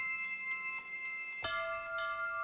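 Bright, bell-like wind chime synth notes from an arpeggiator ring out in a steady eighth-note pattern, clear and sustained, shifting to a new chord partway through, with no voices.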